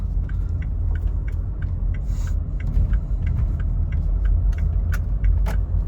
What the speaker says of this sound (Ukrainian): Рушаємо. Автомобіль дуже динамічний, з потужним двигуном на 135 кВт.